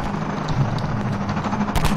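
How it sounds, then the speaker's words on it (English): Gunfire in the video game Half-Life 2 crackles through a dense, noisy city soundscape with a low engine-like hum, with a few sharp reports and a louder burst near the end. "Oh, that's gunshots."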